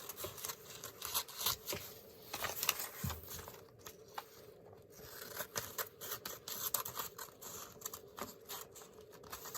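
Repeated snipping and scraping of scissors slicing through fabric, close and fairly quiet, with short pauses between cuts.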